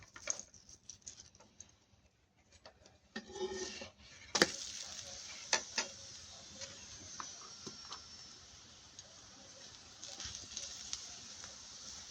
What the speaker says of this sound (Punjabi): ਰੋਟੀ ਦੀ ਸਾਈਡ ਨੂੰ ਕਰ ਦਿੰਨੇ ਆ ਜੀ ਚੇਂਜ ਤੇ ਘਿਓ ਲਾ ਕੇ ਇਹਨੂੰ ਸੇਕ ਲੈਂਦੇ ਆ